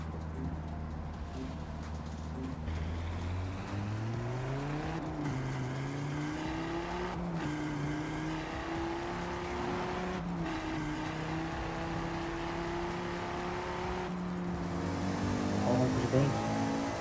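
A Volkswagen Golf GTI engine in a driving video game hums steadily at moderate revs, its pitch rising and dipping gently as the car cruises along, with faint game noise around it.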